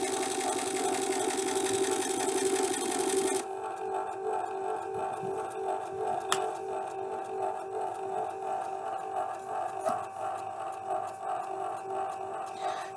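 A TESPO vitamin dispenser spins to mix powder with water, giving a steady mechanical whir like a small motor running, loud at first and then settling into a softer continuous hum.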